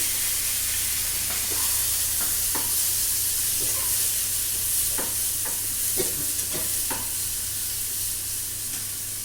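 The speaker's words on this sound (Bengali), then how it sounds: "চিংড়ি মাছটা দিয়ে দিলাম।" Prawns fry in a pan with black cumin seeds, giving a constant close hiss and sizzle, with occasional soft stirring scrapes and clicks.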